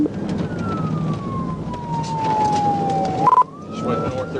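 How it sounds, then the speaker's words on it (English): A police car siren wails in a long descending sweep, then breaks into a sharp electronic yelp before rising again, loud and close over steady road and engine noise during a motorcycle pursuit. "When Trooper Thomas activated his lights and siren, McCarthy responded by passing vehicles"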